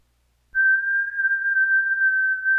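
A single steady whistled tone begins after a brief silence and holds at a constant pitch, clear and close, with no other sounds.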